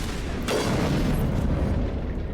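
Heavy gunfire rumbles through a Mass Effect firefight as a dense, continuous low boom with a sharp burst near the start, loud and close throughout.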